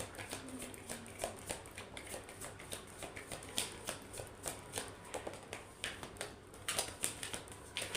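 Tarot cards being shuffled by hand, a soft rhythmic run of quick riffling taps and flicks, quiet and close, with no talking.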